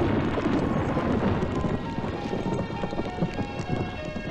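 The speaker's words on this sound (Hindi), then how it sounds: "कमाल का तूफान आया यहाँ।" Heavy rain pours steadily through a stormy night with low rumbling that fits distant thunder, a dense continuous wash of sound with no voices.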